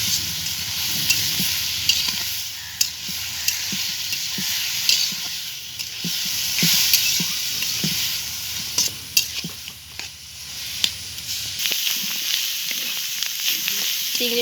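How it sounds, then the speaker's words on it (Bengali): Spice paste for a prawn curry fries in a pan with a continuous sizzle. Sharp clicks and scrapes of stirring break through at irregular points, and the frying noise drops away near the end. "চিংড়ি মাছের ঝোল মশলা দিয়ে ভালো করে ভাজা হয়ে গেছে।"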